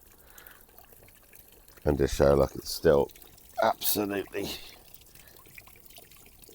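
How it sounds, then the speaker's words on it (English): Water runs steadily into a garden pond as a faint, continuous trickle and splash beneath a person talking. "leave the water running for a little bit"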